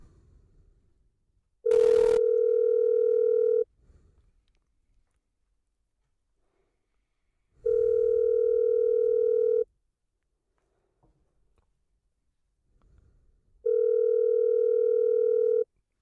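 Three long ringback tones sound over a phone line to a Red Lobster restaurant, evenly spaced with silent gaps between, clear and steady.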